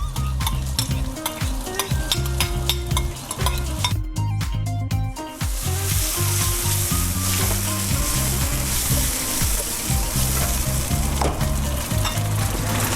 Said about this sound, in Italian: Adesso ci mettiamo il concentrato di pomodoro.